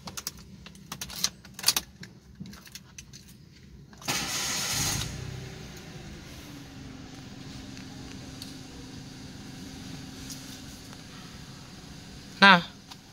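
A 2015 Mitsubishi Mirage Sport GLS automatic started with a key: clicks and key jingles, then a short cranking burst that settles into a steady low idle, with a brief jingle near the end and talk around it.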